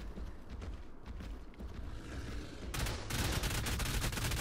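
Dense rapid gunfire from many auto turrets in Ark, a continuous crackling barrage that grows louder and denser toward the end, with no talk over it.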